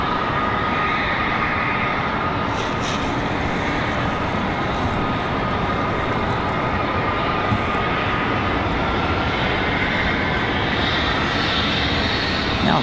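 Embraer E175LR regional jet arriving at Charlotte Douglas International Airport, a loud, sustained engine roar and rushing whine that holds steady throughout, heard from outdoors at the airfield.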